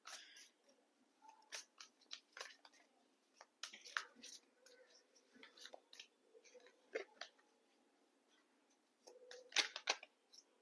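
Crisp, irregular rustling and snapping of tarot cards being shuffled, quick bursts of flicks and taps with short pauses between.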